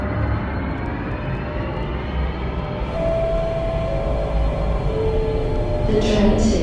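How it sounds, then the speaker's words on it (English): A train pulls into a station platform at Tallawong, with a steady close rumble and whining tones that swell slightly as it arrives, plus a brief hiss near the end. "The train to Chatswood is going to enter platform number 2."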